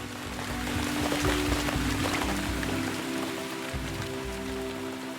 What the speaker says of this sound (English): I do really like the sideways rain aesthetic.